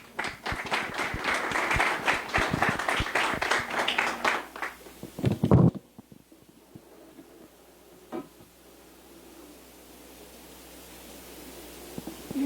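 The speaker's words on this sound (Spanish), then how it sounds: "Lo recibimos con un fuerte aplauso" Applause from an audience at an evening anniversary event of the Colegio de Arquitectos de Costa Rica greets a speaker, dense clapping lasting about five seconds before stopping sharply into quiet room tone.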